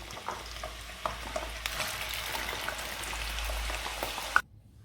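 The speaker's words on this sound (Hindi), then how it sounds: "अब आपने चिप्स फ्राई कर लेनी है" Potato chips frying in oil for biryani, a close, steady bubbling crackle like light rain that runs evenly and then cuts off abruptly near the end.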